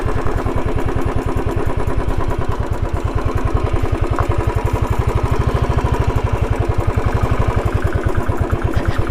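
A Royal Enfield Thunderbird motorcycle ridden off-road over rocky hill ground, its engine chugging steadily and loudly up close with a constant thumping beat and clatter throughout, no talk.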